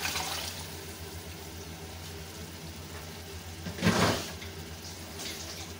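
About two glasses of leftover water poured into a pot of chickpeas for channa pulao, a soft, muffled splash rising briefly to a louder gush midway over a low, steady background hum.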